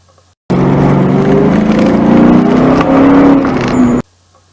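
A Ford Mustang accelerates through an autocross slalom. The engine note is loud and close, rising steadily for about three and a half seconds before cutting off abruptly.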